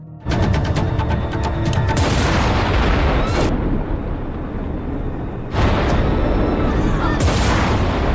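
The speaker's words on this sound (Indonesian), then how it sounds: "ketika mendengar suara ledakan" Loud, rumbling explosions boom and roar almost without pause, with sharp cracking bursts at the start, in a scene from the series The Last Ship.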